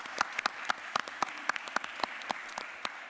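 At a county board of commissioners meeting, a small number of people clap for staff, sparse distinct claps in a loose, fairly quiet rhythm across a large room.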